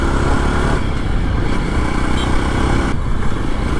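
A Jawa 42 Bobber Black Mirror motorcycle rides along, its engine a loud, steady close-up drone with a slight shift in pitch partway through and no speech.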